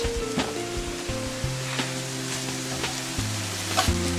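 Spinach sizzles in a hot pan with a soft, steady hiss for a pizza topping. A few light clinks and scrapes from stirring come through close by, and no one speaks.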